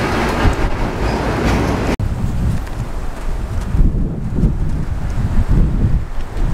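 A train rumbles past close by in Hagerstown, Maryland, with steady rolling noise and wind buffeting the microphone.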